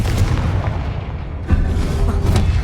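Booming blasting-curse explosions from the Hogwarts Legacy video game, loud and continuous, with a sharp new blast about halfway through over a rumbling low end.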